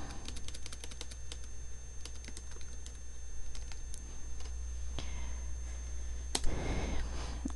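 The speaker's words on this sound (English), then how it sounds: "I'm going to have to do some manual typing again." Rapid clicking of keys on a computer keyboard, steady bursts of typing close by over a low constant hum, with no talking.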